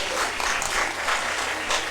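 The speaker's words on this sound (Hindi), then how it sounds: "एक बार ताली बजाइए।" Steady, dense applause from a seated audience at an Indian language council award ceremony, a continuous wash of many hands clapping with no voices.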